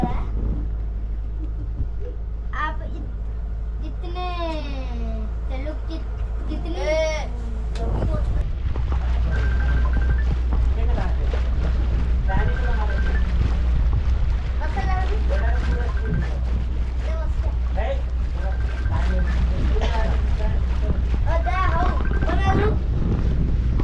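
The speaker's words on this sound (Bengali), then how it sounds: "আমাদের বোট ছেড়ে দিল" A sightseeing boat on a Gopalpur trip pulls away, its engine rumbling low and steady with strong wind buffeting the microphone and water noise around, while people talk and call out over it throughout.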